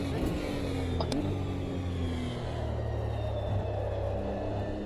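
A race car engine drones steadily and close up on a track while the driver works through the gears, with a brief dip in pitch around one second as the car shifts into third at half revs.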